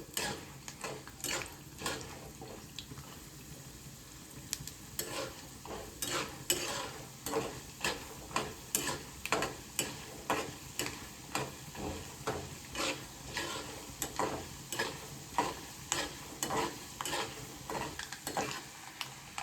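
Chana dal and urad dal fry in oil over a medium flame for pulihora, a low steady sizzle under a regular rhythm of spoon strokes scraping and tapping the pan, growing more evenly paced as it goes on.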